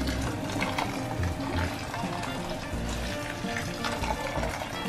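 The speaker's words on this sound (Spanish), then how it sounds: "Voy a echar todo 1 litro dentro del arroz." Boiled water, a full litre, poured into a pot of rice, a steady close rush of liquid running continuously throughout.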